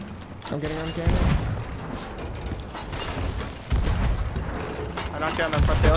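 Ship cannons firing during a brigantine naval battle in a video game, several heavy booms landing among loud mechanical clatter and rumble, with players talking throughout.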